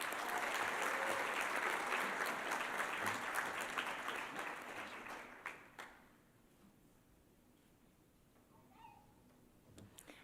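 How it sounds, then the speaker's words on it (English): Loud audience applause at an awards ceremony fills the first half, a dense wash of clapping that fades out around six seconds, leaving a quiet room with a few faint scattered sounds. "Let's give him another round of applause."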